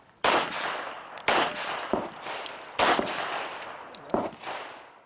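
A shooter at an IDPA pistol match fires several sharp, loud pistol shots in uneven succession, each followed by a ringing decay, with faint metallic clinks between them.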